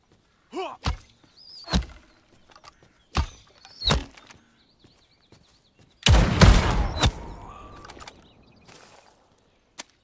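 Musket shots in an alpha build of The Legend of California, a Wild West game: separate sharp reports with booming tails, then a louder, longer blast around the middle that fades into quieter rumbling.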